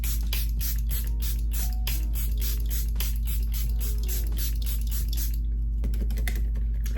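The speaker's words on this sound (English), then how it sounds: "I do have the Charlotte Tilbury setting spray, so I'm going with this one." Charlotte Tilbury setting spray hisses in a rapid series of short bursts, close and crisp, with clicking pump pauses between sprays over a steady low hum, tapering off near the end.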